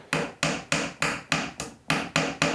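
Warrington pattern hammer driving a nail into wood with nine sharp, evenly spaced strikes, close and loud, with no voices.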